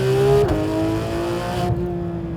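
Modified 991.2-generation Porsche 911 GT3 RS engine holds a loud, close, high-pitched note with a brief dip in pitch before climbing again, steady and unbroken with no talking.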